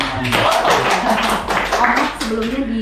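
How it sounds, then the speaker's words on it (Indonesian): Applause behind the scenes of a campus radio podcast, a short burst of close hand claps from a small group mixed with overlapping talk and laughter. "Tepuk tangan."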